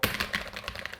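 Fast typing on a Corsair K70 PRO TKL hall effect keyboard with an aluminium top frame, a quick burst of close, crisp keystrokes in an irregular rhythm with no talking.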